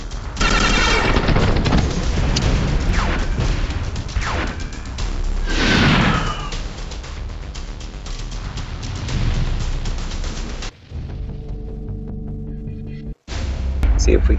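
Ship weapons fire in the Star Traders Frontiers video game as loud rapid bursts and booming whooshes, with a short gap and a quieter tonal stretch near the end.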